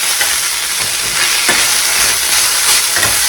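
A vegetable curry with turmeric fries in a pan at home, giving off a loud, continuous broadband sizzle with occasional louder bursts and stirring surges, close up, with no one speaking.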